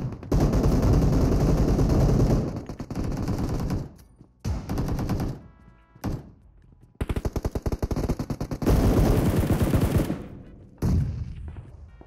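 Automatic gunfire from the video game PUBG Mobile rattles out in loud, dense bursts, several long volleys separated by brief pauses and some shorter clusters of shots.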